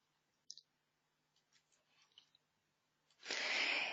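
A computer mouse gives a quick pair of sharp clicks near the start, then fainter ticks. A loud burst of broadband noise fills the final second.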